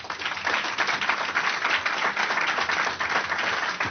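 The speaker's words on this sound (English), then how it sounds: "let's at least give our panelists a round of applause for taking a crack at it" An audience at a recreation program meeting gives the panelists a round of applause, a dense, even clatter of many hands held for several seconds.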